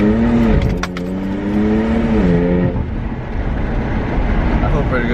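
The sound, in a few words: BMW 335is engine with suspected boost leak air noise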